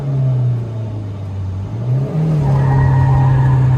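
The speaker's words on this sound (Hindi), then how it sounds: "ज्यादा ही व्हील स्पिन हो गया" An old Suzuki Swift launching at a drag race from about 4000 RPM spins its wheels, giving a loud steady engine drone with tire squeal that climbs in pitch as it shifts and accelerates away.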